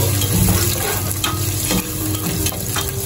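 Onion and garlic sautéing in a pan: a loud, steady sizzle that runs throughout, with occasional scrapes from stirring and no voices.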